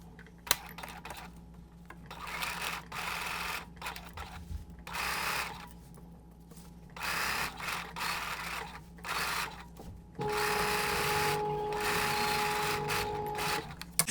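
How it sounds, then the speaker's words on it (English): A sewing machine stitches a coat's front facing to its lining, running in several bursts of steady mechanical whirring separated by brief pauses, close and fairly loud. "I'm just getting ready to sit and sew all these in."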